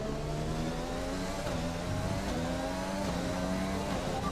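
A Formula 1 race car engine in the F1 2020 video game at the US Grand Prix, revving steadily at high pitch with rising and shifting tones, continuous and close throughout.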